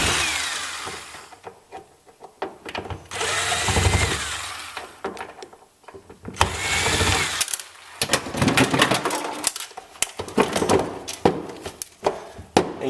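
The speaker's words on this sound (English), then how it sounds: "Remove these three Phillips screws," Phillips screws being backed out of the waterproof dust cover on a Jeep Wrangler Rubicon rear axle, with repeated short scraping, clicking tool and metal sounds in irregular bursts, close and moderately loud.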